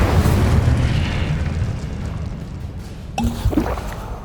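A fiery spell blast from Hogwarts Legacy erupts as a loud, rumbling boom that roars and slowly fades, followed near the end by a sharp second burst and crackle.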